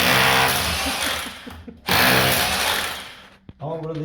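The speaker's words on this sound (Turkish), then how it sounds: "üst noktasından deliyorum ki baca rahat girsin" A power drill whines loudly and close up while boring a hole for a gas stove flue pipe, with two long runs broken by a brief stop and a short restart at the end.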